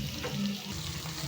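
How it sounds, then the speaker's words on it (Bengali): Fish pieces frying in hot oil produce a steady, close crackling sizzle that runs unbroken and fairly quiet, with no voices. "এইভাবে সব মাছগুলো ভেজে নেব"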